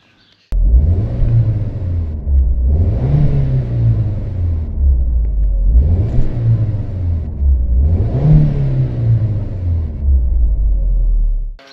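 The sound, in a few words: Chrysler Crossfire 3.2L V6 engine revving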